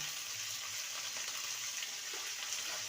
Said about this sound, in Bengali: বরবটিটাকে ভালো করে ভেজে নেব।